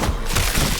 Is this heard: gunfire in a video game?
yes